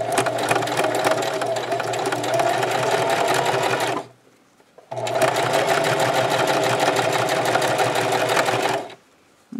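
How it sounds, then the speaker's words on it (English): A sewing machine runs steadily along the edge of fabric for a scrub cap with a ponytail opening, loud and close, in two long bursts separated by a brief pause. "we're going to sew right along this edge"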